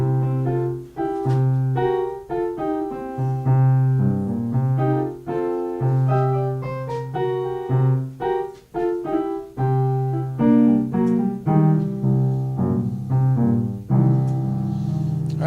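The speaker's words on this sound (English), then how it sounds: "we're going to have a little bit of piano music" Piano playing a blues tune, with a repeating low bass line under brighter chords and melody notes, steady and moderately loud.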